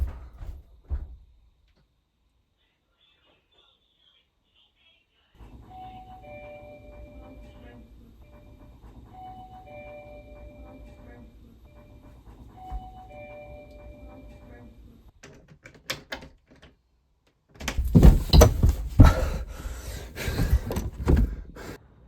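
A two-tone electronic doorbell chime rings over and over at a steady pace, followed by a burst of loud, clattering noise.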